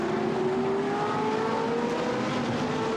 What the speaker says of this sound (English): They're absolutely side by side, these two Ferraris.